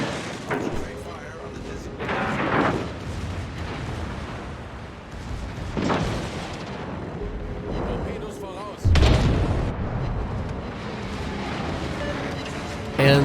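Warship main and secondary battery guns fire in the World of Warships naval game, heavy booming blasts recurring through the clip with one especially loud close salvo near the end, under steady speech.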